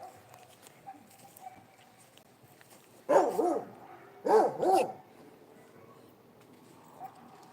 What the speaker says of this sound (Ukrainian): Собаки мої гавкають.